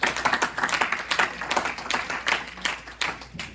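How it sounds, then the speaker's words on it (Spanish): A church congregation applauds during a service, with dense, steady clapping from many hands that keeps up at an even level throughout. "Denle fuerte aplauso al Señor."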